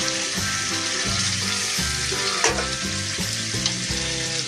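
Gravy going into a hot pan, a loud, close, continuous sizzle with a rhythmic pattern of stirring strokes and a brief splash partway through.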